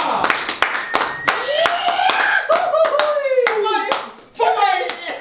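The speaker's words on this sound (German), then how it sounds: "Macht einen riesengroßen Applaus für Thorsten Sträter!" Scattered hand claps ring out in uneven bursts as a guest is welcomed onto a German comedy show, with lively voices shouting and talking over the clapping throughout.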